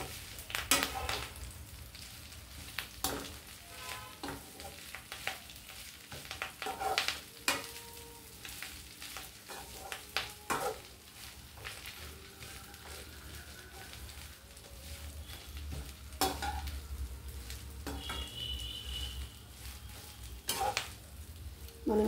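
Potato curry fries in oil in a pan, a low steady sizzle broken by repeated sharp clinks and scrapes of a spoon stirring, fairly quiet and close, with no clear talk.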